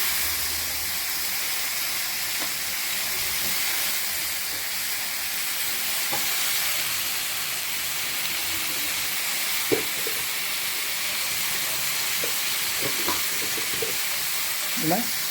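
Brinjal pieces sizzle steadily in a pan with sautéed onion, tomato and garlic for millet brinjal rice, a constant broad hiss with occasional soft stirring clicks and scrapes, no voices.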